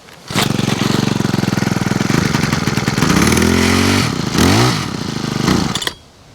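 A Honda HHH25 small engine, newly fitted with a replacement carburetor, chatters loudly at close range, speeding up and slowing down over several seconds before it cuts out.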